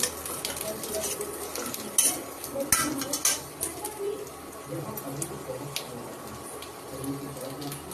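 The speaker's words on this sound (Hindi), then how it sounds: "बाकी का ये फ्राई हो रहा है कटहल" Jackfruit fries in a pan for a sabzi while a spoon stirs and scrapes against the metal, giving soft sizzling with intermittent clinks, someone talking at times and pigeons cooing in the background.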